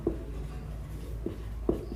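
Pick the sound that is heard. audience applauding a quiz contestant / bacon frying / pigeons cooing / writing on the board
writing on the board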